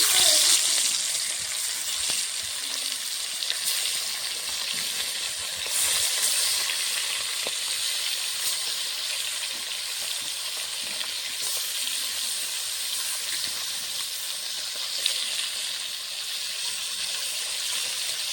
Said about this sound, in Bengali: কড়াইতে তেল দিয়ে দিয়েছি, গরম হয়ে গেছে। মাছগুলো ভেজে নেব।